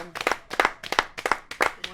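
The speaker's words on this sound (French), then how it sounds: "J'aimerais bien qu'on applaudisse pour elle." A small audience at a French-language television presenter contest event claps briefly in a rhythmic pattern of close, sharp handclaps, about three claps per half second.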